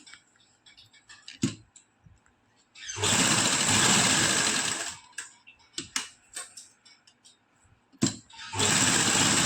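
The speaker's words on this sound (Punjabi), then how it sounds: "ਹੁਣ ਆਪਾਂ ਇਹਦੇ ਉੱਪਰ ਉੱਪਰ ਸਲਾਈ ਲਾ ਲਾਂਗੇ ਕਿਨਾਰੇ ਕਿਨਾਰੇ ਤੇ ਸਲਾਈ ਲਗਾ ਲਾਂਗੇ" Sewing machine stitching along the folded edge of fabric while making a salwar waistband, running in two loud sustained bursts with quieter pauses and small clicks between them.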